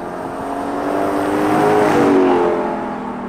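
A Lexus LC500 convertible, rear-wheel drive, drives past with a steady engine and road roar that swells and eases slightly, heard continuously up close with no talk.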